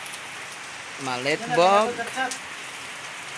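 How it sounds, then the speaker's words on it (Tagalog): Rain falls in a steady, even hiss throughout, while a voice speaks briefly over it in the middle. "Ulan siya ulan."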